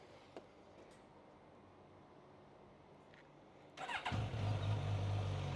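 Quiet background, then a 2017 Suzuki GSX-S 1000F motorcycle engine cranks and catches, settling into a loud, steady idle close by.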